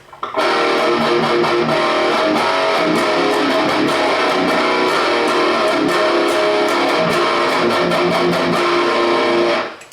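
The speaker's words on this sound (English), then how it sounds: "the sound you're hearing is just the Boss Katana's speaker and power amp" Distorted electric guitar chords played loud through a Boss Katana combo amp's speaker and power amp, sustained and dense with rhythmic strums, continuing steadily before cutting off at the end.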